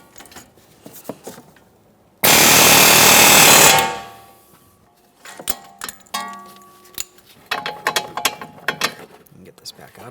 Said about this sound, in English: Now we'll just use our air hammer here.